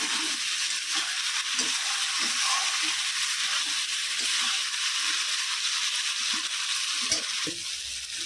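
Crab masala frying in oil in a pan gives a steady, close, loud sizzle that runs throughout, with occasional soft scraping and clicks as it is stirred.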